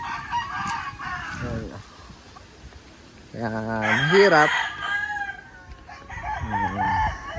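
Roosters crow repeatedly at a chicken poultry farm, several drawn-out cock-a-doodle-doos near and far amid clucking hens, while someone speaks briefly over the flock.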